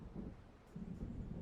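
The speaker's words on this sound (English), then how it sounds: "It seems there's a storm coming." Low, rolling rumble of thunder from an approaching storm in the game Alan Wake Remastered, faint and distant, swelling in two broad waves over wind-like noise.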